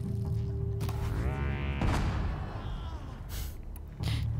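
Enemy gunfire in the video game Horizon Zero Dawn, a series of loud bursts and booming impacts mixed with dense game noise, with a mechanical creaking tone in between.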